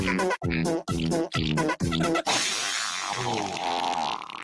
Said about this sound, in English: We'll play the fart song